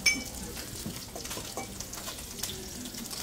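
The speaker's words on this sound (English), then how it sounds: "With that, we're just going to mix it." A spoon mixing a dish with jalapeño in a bowl or pan, faint soft scraping and light clinks over a hushed sizzle-like background, quiet and close.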